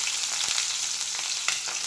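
Sliced onions frying in hot oil with curry leaves for a field bean sambar, a continuous close sizzle with a few light stirring knocks, no talk.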